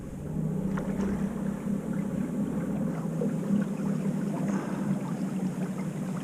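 A duck boat's motor with remote pole steering runs on the water, shifting between reverse and forward. It gives a steady, unbroken low drone close by, with wind and water noise and no talking.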